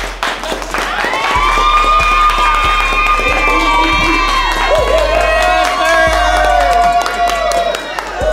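A studio audience claps and cheers loudly, with whoops and shouting over steady applause and a rhythmic beat underneath.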